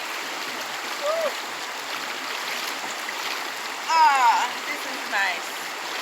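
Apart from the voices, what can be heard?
flowing river water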